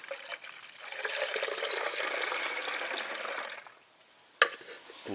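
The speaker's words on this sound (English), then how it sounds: "So I'm just going to add universal coolant" Universal coolant poured into the reservoir of a 2013 Mini Cooper S Turbo, a steady close gurgling trickle for a few seconds that stops, followed by a brief sharp knock.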